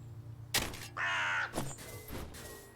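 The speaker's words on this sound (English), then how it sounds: "Oh, these crows." Crows caw in the video game Wytchwood, several harsh, nasal calls in quick succession over a low steady ambient hum, close and clear with no talking.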